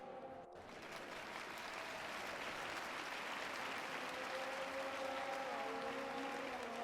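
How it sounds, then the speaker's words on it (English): A crowd at a Spanish XRL electric rally race breaks into sustained applause that swells and holds steady, with faint tonal engine or whine sounds running underneath. "A great applause from the crowd."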